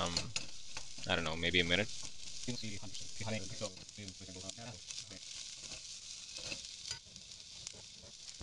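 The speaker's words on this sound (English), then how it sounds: "And then the capsicum and the onion go in. Toss it a bit like that." Capsicum and onion being sautéed in a pan at a street-food stall making gobi manchurian: a soft, continuous sizzle with some tossing and scraping, partly under a voice talking, with background noise from the stall.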